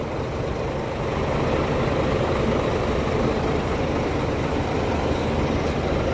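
A heavy diesel engine of a truck-chassis bus with six rear tires idles at a bus terminal with a steady, loud low rumble and broadband noise, unbroken for the whole stretch.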